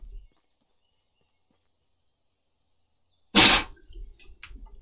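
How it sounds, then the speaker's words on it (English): A single sharp, loud sneeze bursts out close to the microphone after a long stretch of near silence, followed by a few faint breathy sounds. "I had to sneeze."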